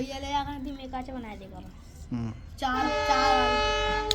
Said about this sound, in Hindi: ट्रेन आ गई, चलो घूमे।